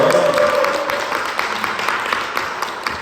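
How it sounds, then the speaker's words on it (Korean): Audience applause at a Korean talk concert: a short burst of crowd clapping, dense and fairly loud, easing slightly over about three seconds, with a brief voice-like tone at the very start. "박수 한번 보내주세요"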